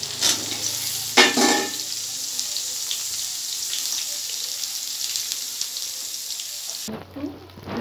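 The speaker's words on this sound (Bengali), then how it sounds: "প্রথমে আমি আলুটা ভেজে নেব।" Potato pieces frying in oil, stirred in the pan for cabbage cooking, give a steady hiss and sizzle with a few scraping stirs near the start, then a sudden cut to quieter kitchen sound.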